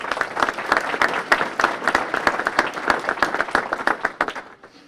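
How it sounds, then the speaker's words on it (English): Audience applause at an annual mayor's breakfast for two mayors, a modest round of separate, distinct claps from a smallish crowd that swells, then tapers and stops abruptly near the end. "both Nick and Dean deserve a great round of applause"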